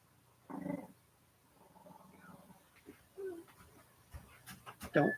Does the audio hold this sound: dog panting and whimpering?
yes